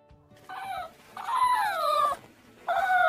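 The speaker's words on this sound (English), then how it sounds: "8 puppies." Puppies whimper and yip in three short, high, whiny cries, with quiet pauses between them.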